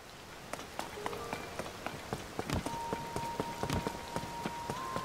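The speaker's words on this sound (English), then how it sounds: "Oh great, it's raining. Just what I don't need." Steady rain falling in The Legend of Zelda: Tears of the Kingdom, with a constant patter of drops across the surface, scattered sharper close splashes, and faint in-game tones drifting through; no one speaks.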